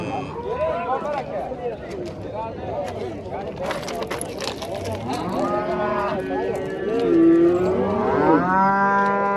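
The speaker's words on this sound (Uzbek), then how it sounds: "Bu sigir kimdan ekan aka?" A cow at the Adas livestock market lets out a long, loud, rising moo in the second half, with a shorter low call just before it, over constant crowd chatter and market bustle.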